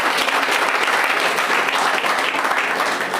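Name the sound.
congregation applauding in church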